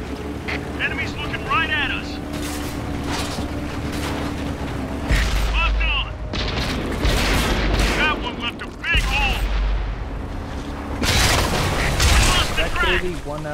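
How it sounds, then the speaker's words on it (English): Tank cannon fire, explosions and grinding tracks sound in a World of Tanks battle, repeated loud blasts and mechanical rumble filling the stretch while players talk over the action. "Look out, we've got some long range fire here."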